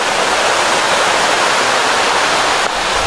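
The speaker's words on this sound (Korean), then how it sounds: "이 개울 소리 들리세요? 이 개울 소리?" A mountain stream runs right beside a log cabin pension in Danyang, a loud, continuous rushing wash of water heard up close without any talking.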